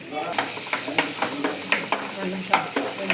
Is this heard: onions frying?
yes